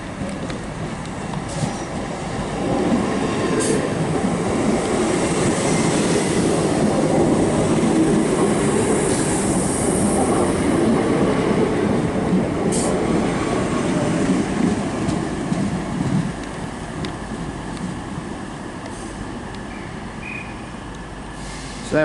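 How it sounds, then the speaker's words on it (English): A Northern Class 319 electric train pulls into Stockport station on the West Coast Main Line, with a loud, continuous rumble and rolling clatter of wheels that swells and then eases, plus faint squeals near the platform. "the 1214 Northern service from Manchester Piccadilly to Crewe, formed of a 319, which is arriving in literally next to the Voyager"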